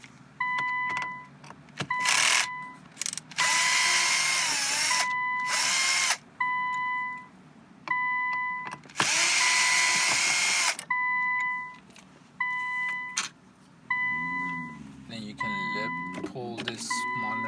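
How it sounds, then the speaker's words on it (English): A power drill whirs in several loud bursts as it backs screws out of the top dashboard screen of a 2015–2017 Infiniti Q50 with the I-Knob, with pauses between runs and some handling noise and a voice in the gaps. "So go ahead and undo these 2 screws."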